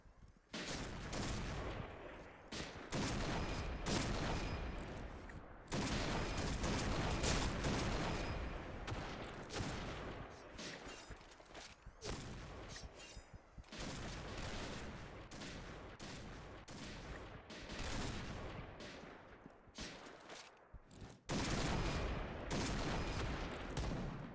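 Rapid gunfire from the online shooter Point Blank, dense bursts of shots crackling almost continuously and loudly, with brief pauses between volleys and no talk.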